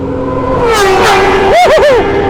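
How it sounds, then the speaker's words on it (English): A Ducati superbike revs and roars past at night in city tunnels, a loud close pass with rising and falling engine pitch and a few quick throttle blips near the end. "Beautiful Ducati right here."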